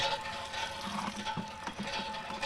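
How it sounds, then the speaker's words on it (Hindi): Hot water flows steadily from a village hand pump, a continuous close splashing rush with faint knocks under it, and no talking. "अब देखिए पानी निकलता हुआ आपको नज़र आ रहा है इसमें से, पंप में से, और ये सारा का सारा पानी जो है गर्म है।"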